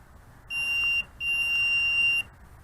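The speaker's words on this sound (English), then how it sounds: "Makes a beeping sound." Two steady high-pitched electronic beeps from a Diatone FPV drone, the first short and the second longer, loud and clear over a quiet background hum.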